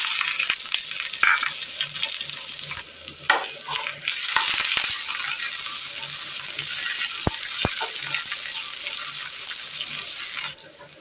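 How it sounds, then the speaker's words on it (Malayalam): Shallots sizzle loudly in hot oil in a pan after mustard seeds have spluttered, cooked for a Kerala curry. The frying hiss is steady and close throughout, with a few sharp stirring clinks, and the sound cuts off near the end. "കടുക് ഒന്ന് പൊട്ടിക്കഴിയുമ്പോൾ അതിലേക്ക് ചെറിയുള്ളി ഇട്ട് കൊടുക്കാം."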